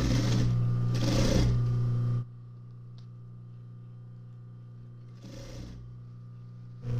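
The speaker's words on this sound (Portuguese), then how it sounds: "vou passar uma costurinha aqui primeiro" Sewing machine stitching a repair on torn jeans, with loud, steady bursts of stitching at the start and again near the end, separated by a quieter stretch of low machine hum.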